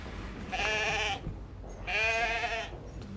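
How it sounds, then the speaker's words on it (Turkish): Two separate sheep bleats, each lasting under a second with a wavering, voiced tone, heard alone at moderate distance with a short gap between them. "Bir koyun sesi duydum sanki."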